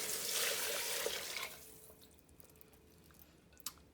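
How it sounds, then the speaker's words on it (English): Cold tap water pours over a chicken carcass in a stockpot, a loud rushing stream that stops after about a second and a half, leaving faint drips and one sharp clink. "So I'm going to cover it with some water, just regular cold water out of the tap."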